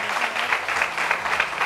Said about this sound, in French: Ça s'applaudit déjà.